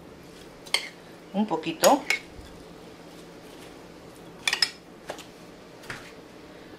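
Avocado salad being mixed in a bowl, with a cluster of utensil clinks and scrapes against the dish, then scattered lighter taps; a voice speaks briefly under the clatter.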